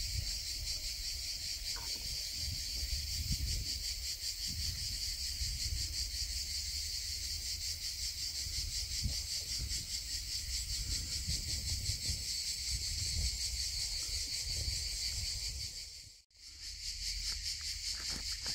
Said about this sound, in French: Il y en a de la cigale ici.